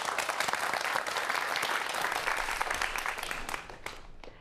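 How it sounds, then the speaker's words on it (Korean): An audience in a lecture hall applauds to welcome a speaker on forensic science, dense sustained clapping that thins out and fades toward the end. "박수 부탁드립니다."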